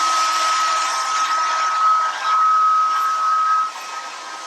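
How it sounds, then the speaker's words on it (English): A hair dryer held upside down blows steadily on hair, a loud close whooshing roar with a thin whine, dropping slightly near the end. "I always like to hold the hair dryer upside down. So I'm always blow drying my hair straight down"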